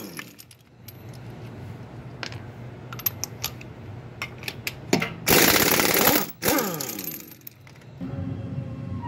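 A power tool removes a wheel from a 1997-2002 Ford Expedition during air suspension work: one loud, roughly one-second burst with a brief follow-up, set among quieter clinks and workshop rattles.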